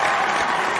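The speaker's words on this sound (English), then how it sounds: "I hear some people cheering," A crowd cheers and applauds from a distance at a battlefield gathering, a steady wash of clapping and voices with no clear individual words.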